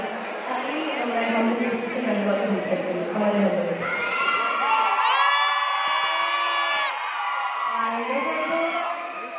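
A college audience at St. Paul's College roars during a dance performance, with loud crowd cheering, whoops and shouted voices rising and falling over several seconds, mixed with chatter.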